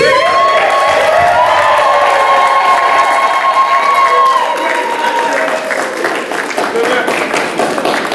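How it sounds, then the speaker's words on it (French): A congregation at a Congolese religious wedding applauds and cheers the couple's exchange of consent, with loud, sustained clapping, shouts and high whoops from a large crowd that ease slightly toward the end. "après ce consentement qui a mérité les ovations et les applaudissements"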